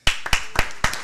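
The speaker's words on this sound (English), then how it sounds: "Please give a wonderful round of applause for this awesome panelist." A few separate hand claps from an audience greeting a panelist at a community discussion event, sharp and close, with short gaps between them.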